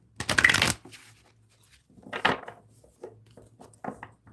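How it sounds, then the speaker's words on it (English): Tarot energy cards shuffled at close range in a quiet room: a long dense riffle burst, then a shorter one, followed by a few light card taps and shuffles. "let me shuffle these energy cards here."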